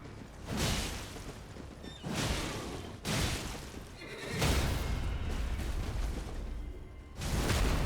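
A horse whinnies and neighs repeatedly in Elden Ring, loud and close, in several bursts mixed with heavy thumping impacts.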